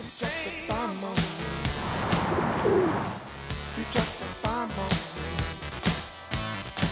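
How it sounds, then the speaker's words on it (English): Pigeons coo at a courthouse, with repeated soft throaty calls rising and falling close by, mixed with flutters and rustling bursts between calls. "At the Ogden Courthouse, pigeons rule the roost."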